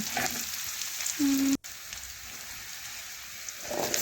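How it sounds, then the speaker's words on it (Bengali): Onions fry in a pan with bay leaf, giving a close, steady sizzle with crackle, briefly broken by a short tone and a sudden dropout before the frying hiss resumes. "পেঁয়াজ একটু নাড়াচাড়া করে এইভাবে একটু নরম করে ভেজে নিচ্ছি"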